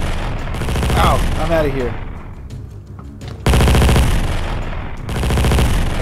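Rapid bursts of automatic gunfire from a Minecraft roleplay battle come in loud, repeated volleys separated by short gaps, with a voice speaking briefly between them.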